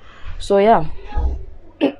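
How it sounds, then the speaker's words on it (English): A person clears their throat with a short, voiced rasp, followed by a brief spoken word and a second quieter throat sound, close and fairly loud. "I was clearing my throat."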